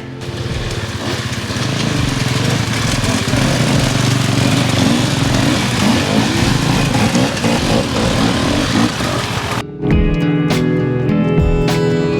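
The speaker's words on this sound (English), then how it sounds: "I think I'm about to be visited by some motorcycles" Loud, steady engine roar throughout, like motorcycles rumbling close by, with a brief dip near the end before the engines surge again.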